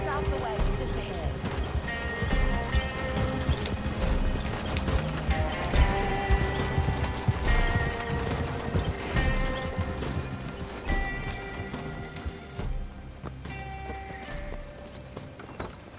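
Horse-drawn wagon in Red Dead Online clip-clopping steadily through the whole stretch, hooves mixed with wheel rumble beneath game music and a voice talking over it.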